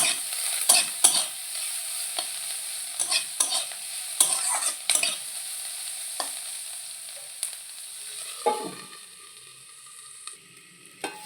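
Mixed vegetables with salt and turmeric fry and steam in a pan for chow mein, a constant soft sizzle broken by sharp spatula scrapes and clacks, which thin out toward the end.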